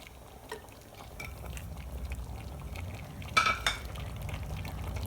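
A spoon stirs country chicken gravy in a pot after coconut and pepper powder go in, soft scraping and bubbling close by, quiet with a brief clatter partway through.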